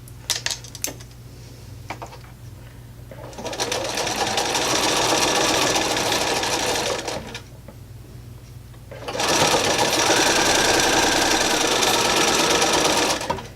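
A sewing machine stitches diamond-shaped quilt pieces in two long, steady, close whirring runs separated by a pause filled with small handling clicks.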